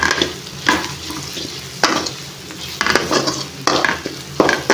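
Ivy gourd fry with garam masala stirred in a pan, a spatula scraping in repeated strokes over a steady close sizzle, with no voices.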